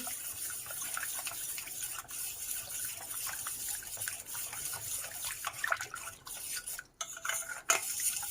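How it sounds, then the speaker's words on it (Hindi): Custard powder is stirred into hot milk in a pot, a spoon scraping and swirling continuously through the liquid with small metallic clinks, close and moderately quiet. "अब उस पॉट में मैं ये कस्टर्ड पाउडर डालूंगी और इसको हम अच्छे से मिक्स करेंगे।"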